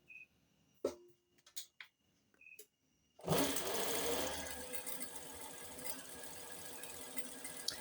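A sewing machine sews a test stitch after a few short taps and clicks, then runs continuously with a bright steady whir, close and fairly loud.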